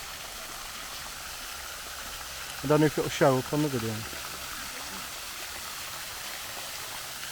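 Water running steadily down the roof of a fountain in the gardens at Chatsworth, a constant rushing wash heard from nearby, with someone speaking briefly over it midway.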